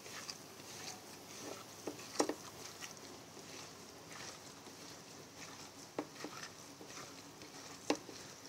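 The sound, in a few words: rubbing chopped onion with black pepper by hand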